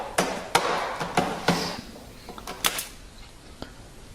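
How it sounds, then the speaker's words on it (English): A hammer drives nails into the wooden frame of a mini-nuc inner cover, with sharp close knocks in an uneven series, about eight blows in four seconds, each ringing briefly. "Glue and nail the frame, making sure everything is square."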